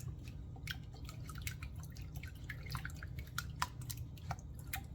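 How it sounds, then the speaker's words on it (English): Three eggs being lightly whisked in a bowl for cornbread muffins, a soft, irregular patter of fork or whisk taps that runs steadily and quietly throughout with no speech. "Just whisk them together, your 3 eggs."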